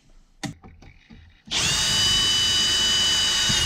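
A few light clicks and taps, then a power drill starts up and whirs loudly and steadily until the end.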